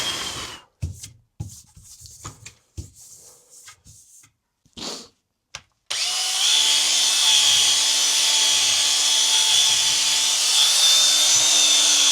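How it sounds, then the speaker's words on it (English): A guitar's fabric top being polished with roughly 3000-grit compound: after a few quiet rubbing strokes, a power polisher starts and runs as a steady, close whirring hum with an even rasp of buffing over it. "I've started polishing."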